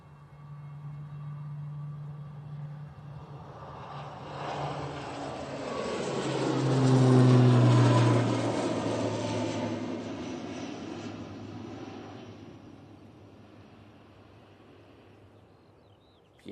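An Aer Lingus airliner takes off from Manchester Airport, its engine roar building to a loud, near peak midway as it passes, then fading steadily into the distance with a falling pitch.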